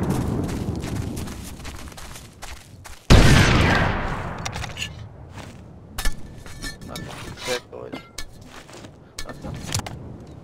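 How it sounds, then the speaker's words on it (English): A loud grenade blast bursts out in Operation Flashpoint: Dragon Rising, its roar trailing off over a couple of seconds amid scattered gunfire and battlefield clatter, with sharper shots cracking afterward. "Watch out, grenade coming in."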